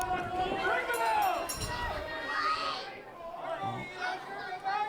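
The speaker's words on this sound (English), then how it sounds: "These crowd is really into it. They really like Starchild." A wrestling crowd at a Starchild match cheers and chatters in a steady, distant roar beneath commentators talking in the foreground.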